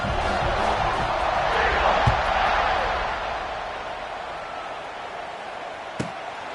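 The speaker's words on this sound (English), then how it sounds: "this crowd is feeling themselves after that last drive" Football stadium crowd roaring in a broad, sustained wash of noise that slowly eases off, with a sharp bang near the end.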